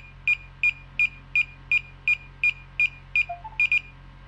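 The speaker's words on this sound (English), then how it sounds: "Now it's beeping." A DJI Avata drone beeps during pairing, a short, bright electronic beep repeating at an even pace about ten times, close and clear, with a couple of softer tones near the end.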